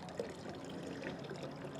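Steady stream of water pouring out of a tilted Dometic GO hydration jug through its open valve, a continuous close splashing trickle with no talk.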